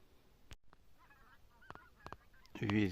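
Geese honk during a spring goose hunt, with scattered faint calls from distant birds followed by a louder burst of honking near the end, in an otherwise quiet outdoor setting.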